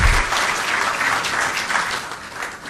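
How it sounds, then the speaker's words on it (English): An audience at a presidential ceremony in Ghana breaks into steady, sustained applause, close and evenly dense throughout the short burst. "Shall we please welcome him with a big round of applause?"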